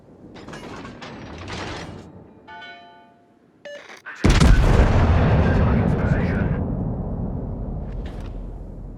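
Heavy naval guns fire from the Bourgogne battleship in World of Warships, a brief mechanical ratchet and clunk followed by a sudden loud booming blast that rolls on with a long thundering rumble, with spoken voice lines in the game earlier on.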